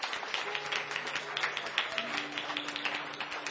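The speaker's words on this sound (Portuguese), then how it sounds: "Se você foi abençoado, aplauda bem forte ao Senhor." Church congregation clapping together in a steady, dense patter after a blessing in a worship service, sustained at moderate volume throughout with no talk over it.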